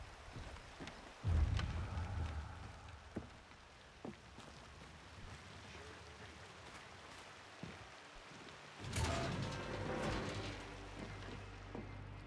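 Rain falls steadily in Dying Light 2 as a soft, continuous hiss, with a few low rumbles and scattered drops, and a louder gust or splash near the end.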